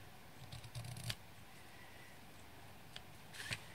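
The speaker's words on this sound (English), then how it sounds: "I'm just going to trim the ribbon a little bit." Scissors snipping ribbon during a paper craft project, a few soft quick cuts near the start and another pair near the end, quiet and close with no talking.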